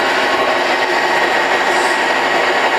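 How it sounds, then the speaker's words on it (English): A power tool bevels a metal part for a steampunk computer stand, a loud continuous grinding whir held steady and close for the whole span, no talk. "so we're now just going to go ahead and bevel it."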